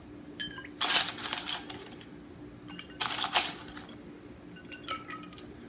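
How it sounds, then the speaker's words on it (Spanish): Ice cubes dropped into a tapioca pearl drink, two bright clattering bursts about two seconds apart, then a lighter third clink, near and alone with no talk. "Entonces le vamos a echar hielito, echar hielo."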